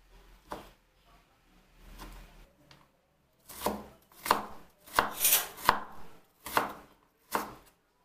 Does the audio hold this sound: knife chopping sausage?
yes